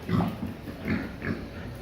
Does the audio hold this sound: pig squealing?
yes